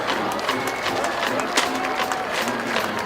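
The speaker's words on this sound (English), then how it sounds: "thank you for the appreciation and applause" Stadium crowd at a high school varsity football game between Wadsworth and Brecksville-Broadview Heights, a steady wash of applause and cheering that holds at an even level for the whole stretch with no clear breaks.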